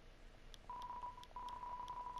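Keypad tones from a landline phone in Deltarune ring out as it is dialed, several brief beeps in a rapid run against a soft background hum.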